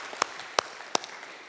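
A church congregation claps three sharp, evenly spaced times, each clap crisp and distinct against a quiet room, with no talking.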